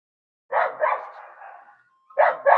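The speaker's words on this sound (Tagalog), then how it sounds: "Tahol ng tahol." A dog barks nearby in short bursts: two quick barks trailing into a drawn-out yelp, then after a pause two more barks.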